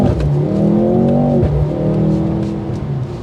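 A hybrid car pulls away from a roadside stop, its engine climbing through rising revs with a steady, loud exhaust note that holds close throughout.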